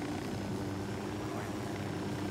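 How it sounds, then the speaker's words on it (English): Steady helicopter rotor and engine drone in the Tom Clancy's video game, a continuous broadband whir holding evenly throughout, fairly close and alone without talk. "it's good to have the helicopter right here right now"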